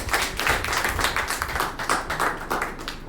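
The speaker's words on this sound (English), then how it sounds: "Thank you for your lovely applause" Steady audience clapping after an open mic poem reading, a dense run of many hands that stays fairly even for about three seconds with no voices over it.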